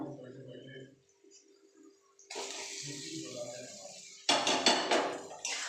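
Pieces of pointed gourd (potol) drop into a hot pan over a low gas flame with green chilies, setting off two bursts of sizzling and spattering after a quiet stretch with brief talk.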